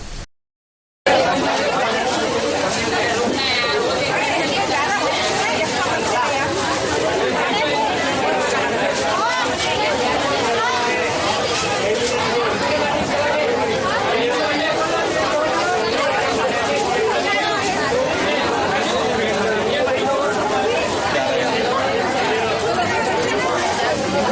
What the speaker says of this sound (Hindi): आराधना और सारथी शोरूम का परिसर 6 घंटे तक भारी भीड़ से भरा दिखाई दिया।